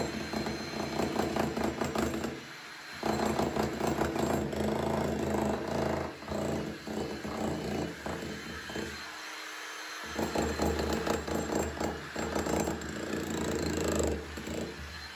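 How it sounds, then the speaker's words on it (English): Loud, continuous mechanical hammering and grinding of a heavy jackhammer breaking a concrete wine vat roof, with brief pauses in the pounding, close up. "get the heavier jackhammer and start to really get stuck in to the roof of the wine vat"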